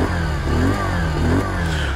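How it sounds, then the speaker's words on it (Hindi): A Bajaj Pulsar 150 motorcycle, the 2023 BS7 OBD-2 model, revs close by with a deep, rough exhaust note, its engine rising and falling in two brief throttle blips over a steady idle. "एंड आप लोग एग्जॉस्ट नोट चेक कर लो"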